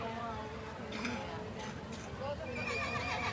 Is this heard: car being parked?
no